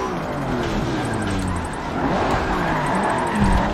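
A Nissan GT-R drifts in a Forza racing game: a droning engine whines over squealing, skidding tires and climbs in pitch toward the end.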